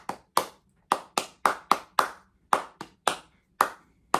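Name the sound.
hand clapping imitating an irregular heartbeat rhythm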